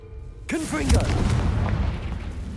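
In the Hogwarts Legacy video game, the Confringo spell sets off a sudden loud booming explosion that rumbles and trails away.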